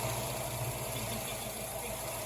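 A 1972 Ford Mustang convertible idles steadily with tubular, uninsulated headers, a constant low engine hum with faint rapid ticking running throughout and no voices.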